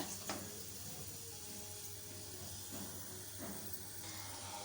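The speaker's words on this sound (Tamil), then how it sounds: "இப்போ இந்த பெருங்காயம் வந்து நல்லா பொரியட்டும்" Asafoetida fries in sesame oil in a pan, giving a faint, steady hiss and sizzle with a few soft pops, quiet and without talk.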